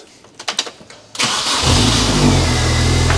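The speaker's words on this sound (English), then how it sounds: "then we'll fire the car up" An R50 Mini Cooper's engine cranks and fires into a steady, loud idle at close range, with a few clicks and knocks just before the start.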